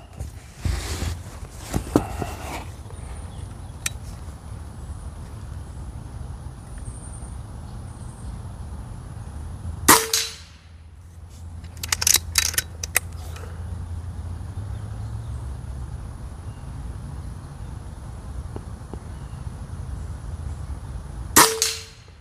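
Rifle shots fired at a distant target with a JTS rifle while diagnosing a clipping issue, three sharp loud cracks spaced apart, at about ten, twelve to thirteen, and near twenty-two seconds, over quiet outdoor background.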